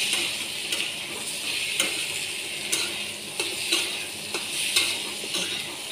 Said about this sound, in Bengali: এই ওলটাও রসুনের সাথে ভাজা চলবে